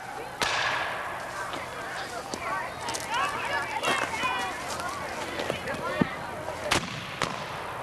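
Civil War re-enactment battle with scattered musket shots and booming cannon fire cracking out across an open field, sharp reports at irregular intervals amid shouted commands and crowd noise.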